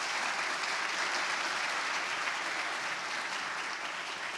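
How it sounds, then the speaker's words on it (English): Audience applause at a conference fills the room as steady, dense clapping that holds an even level throughout, with no one talking over it. "Let's give Devon a round of applause."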